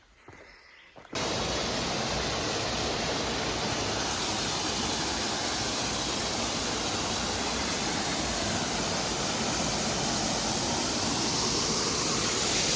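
A waterfall pours into the Clarion River beside a pine forest trail, a loud, steady, broadband rush that starts abruptly after a second of quiet and continues unbroken, with no voices.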